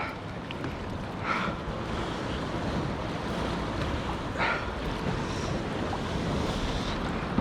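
From a small boat offshore in New Zealand, ocean swell washes near a rock ledge as a continuous loud rushing roar mixed with wind buffeting the microphone, steady with a few slightly stronger surges.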